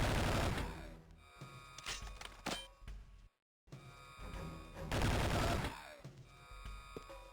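Gunfire from a powerful, ammo-hungry gun in the 2003 Game Boy Advance game 007: Nightfire: loud repeated bursts of shots with metallic clangs, a brief silent gap in the middle, then more sustained firing.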